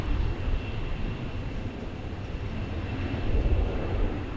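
A Delta airliner passes at DFW Airport: a steady, loud low-frequency engine roar that holds throughout and swells slightly near the end, with no voices present.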